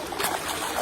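River water streams and trickles steadily during laundry rinsing, a close, continuous wash of flowing water with no voices.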